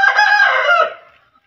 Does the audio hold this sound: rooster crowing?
yes